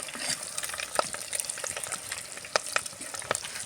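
Eggs frying in a pan for an egg masala fry, with a steady crackling sizzle, scattered sharper pops and a few stirring scrapes.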